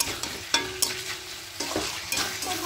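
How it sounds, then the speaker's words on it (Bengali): Coriander chicken with potatoes being stir-fried over a raised gas flame in a pan: steady sizzling broken by a few sharp scrapes and clinks of the spoon, close and moderately loud, with no voices. "এই গ্যাসের ফ্লেমটাকে বাড়িয়ে দেবো, দিয়ে এবার সব কিছু খুব ভালো করে কষতে থাকবো।"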